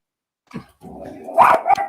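A dog gives a few short, close barks and yips, loud and abrupt, with brief gaps between them and a low growly edge.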